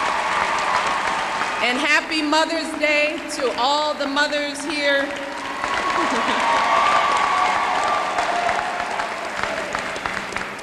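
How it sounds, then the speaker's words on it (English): Applause and some cheering from a large commencement crowd at a 2010 graduation ceremony, a broad wash of clapping that rises under someone speaking over a PA and carries on strongly after she stops. "So let's give them another round of applause."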